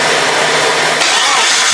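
A 4.0 car engine hot-starting, a loud close broadband churn of cranking and catching that settles into a steady running drone, with no voices.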